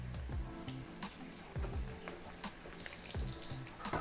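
Battered shrimp fry in a pan of oil with a dense, continuous sizzle and crackle, with occasional bubbling bursts and pops throughout and no voices.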